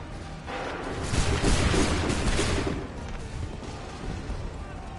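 A musket volley in Assassin's Creed III, a broad, roaring burst of massed gunfire swelling up and then trailing off into rumbling battlefield ambience.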